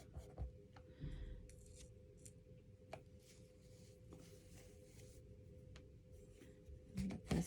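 Scissors snipping scraps of fabric for a collage art panel, a few quiet close cuts and rustles scattered over a faint room hum, with handling noise near the end.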